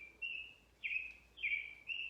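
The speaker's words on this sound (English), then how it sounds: "I hear that little bird in the background" A little bird chirps repeatedly in the background, thin high tweets in a steady series, faint and distant with no talking over them.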